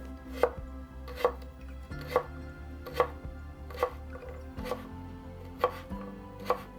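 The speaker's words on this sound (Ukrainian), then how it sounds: "Нарізаю також дрібними кубиками імбир." A knife chops ginger into small cubes on a cutting board in steady, evenly spaced strikes, about eight crisp close thuds with faint background hum.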